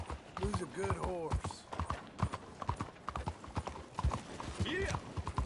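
Horse hooves clop rhythmically in Red Dead Redemption 2, close and clear, while characters talk over the steady gait.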